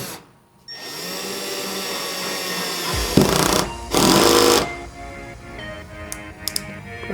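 Power drill driving screws into an HO scale slot car track, whirring in short bursts of revving with pauses between, close and loud.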